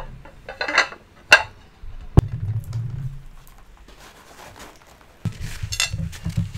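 Glass plates clink and knock against each other as they are handled at a bazaar checkout counter, with a few sharp close-up clinks, a soft scraping rustle, and quiet gaps between them.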